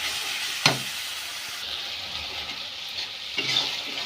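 Spice paste with chilli powder frying in a pan as it is cooked down, with a small splash of water added; a steady close sizzle with two sharper bursts of spatter, and no speech.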